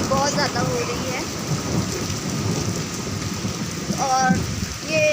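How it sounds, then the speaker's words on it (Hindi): Heavy, thick rain pours steadily during a violent storm with deep rumbling thunder, while a person talks over the downpour at times. "आज तो तूफान बहुत बुरी तरह से आया और बारिश भी बहुत मोटी मोटी हो रही है और गड़गड़ाहट भी बहुत ज़्यादा हो रही है"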